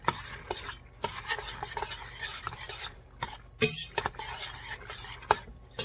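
Macaroni and cheese ingredients stirred in a pot, a close series of irregular metallic scrapes and clacks of a spoon against the pot with short pauses between strokes, no talking.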